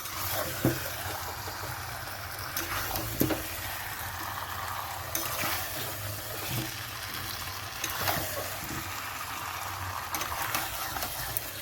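Chicken and raw potato pieces are sautéed in oil, a continuous close frying hiss broken by regular scraping strokes of a spatula stirring the pan, with no voices.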